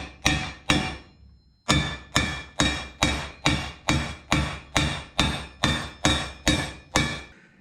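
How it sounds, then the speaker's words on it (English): Heavy copper hammer blows strike a metal engine brace in a steady, even rhythm, about fifteen loud ringing clanks close by after a short pause near the start. "I just beat the shit out of it with a copper hammer."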